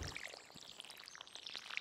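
Watering can pouring over a crop in the Stardew Valley video game, a soft, quiet splashing trickle spread across roughly two seconds with light sparkly chimes on top, and no talking.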